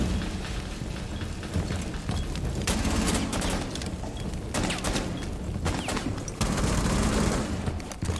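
Rapid gunfire bursts and booms in an online shooter game, with dense, continuous automatic fire rising and falling over several seconds.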